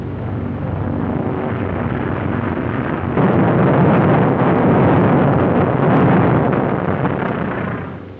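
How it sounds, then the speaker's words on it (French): Precision bombing on a simulated munitions depot, with a steady roar of blasts that swells and rumbles loudly throughout, a dense low rushing wall of sound with no voices. "une démonstration spéciale de bombardement de précision. La cible simule un dépôt de munitions."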